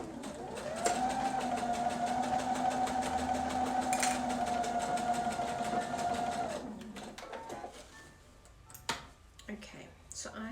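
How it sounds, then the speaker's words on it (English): A sewing machine runs a straight stitch through fabric with a steady, close, whirring hum and rapid ticking for several seconds. It then stops, followed by faint handling clicks and a quiet voice. "I'm going to go back to straight stitch and stitch this closed or together."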